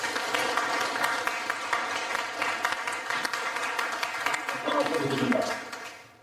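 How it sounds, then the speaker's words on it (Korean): A seated audience at a business forum in Gwangyang applauds a guest with dense, sustained clapping that swells briefly near the end before tapering off, with some voices mixed in. "이제 그 박수 한번 보내드리시죠"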